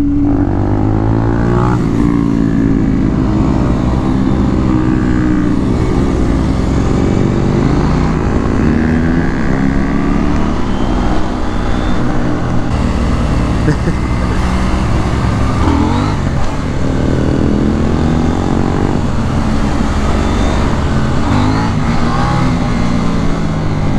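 A KTM Duke 790 motorcycle accelerates hard in first gear, the engine note climbing quickly and steadily. It runs loud and close throughout with no voices.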